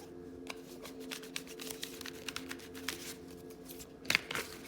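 Tarot cards are shuffled close up and quietly, with soft papery riffles and flicks arriving in irregular bursts and a sharper snap near the end.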